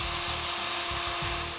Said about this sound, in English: We're going to use the template from the instruction sheet to drill two small holes into the cam retainer plate.